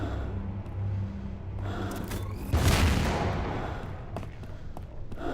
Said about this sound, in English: I like how the explosion sound is like the old Half-Life 1 explosion.